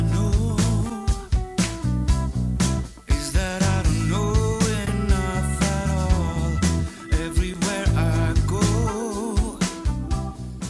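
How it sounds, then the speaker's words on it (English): A full music mix with drums, bass and melodic parts runs through a free tape-simulator plugin on the mix bus, playing loud and continuous for about ten seconds with no talking. "So I've chosen this tape simulator also."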